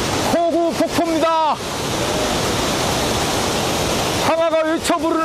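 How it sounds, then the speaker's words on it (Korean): Hukou Waterfall, the yellow, silt-laden cataract on the Yellow River in China, pours in a steady broadband roar, loud and continuous, while a voice talks over the opening and closing seconds. "만리 황하에서 유일한 황색 폭포, 폭포가 되어서 쏟아지는 곳, 호구 폭포입니다."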